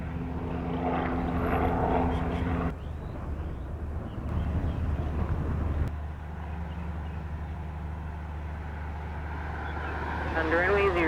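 A fixed-wing airplane at Montego Bay airport in Jamaica roars loudly and steadily with a deep engine drone that swells near the end, under radio voices.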